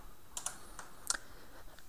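A few quick keystrokes tap on a computer keyboard while typing a command at a Windows command line, sharp clicks spread irregularly over two seconds.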